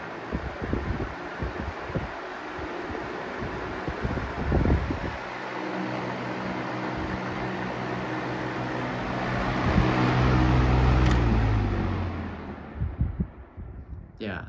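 A vintage 1998 Weatherworks DB-888 fan whirs steadily on its high setting and then winds down, the broadband rush swelling briefly before the motor hum slides lower and fades near the end, with light handling noises early on.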